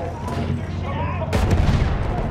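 In the World War I shooter Battlefield 1, heavy machine gun fire rattles in rapid bursts alongside booming gunfire, loud and close, with shouting voices mixed into the battle noise.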